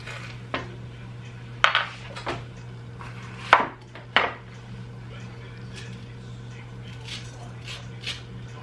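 Seeds being scraped out of hot peppers for homemade pepper jelly, heard as a few sharp scraping and clinking strokes of a utensil against a surface, loud near bursts spaced irregularly over a low steady hum.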